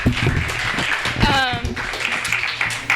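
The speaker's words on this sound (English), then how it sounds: "I think we should give them another round of applause" An audience applauds at a staff showcase performance. The clapping is mixed with loud voices, and a rising whoop or cheer stands out near the middle.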